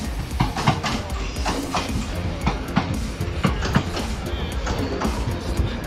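Train cars roll along the rails with repeated clickety-clack wheel beats and a steady rumbling background, heard from on board or close by, with no talk.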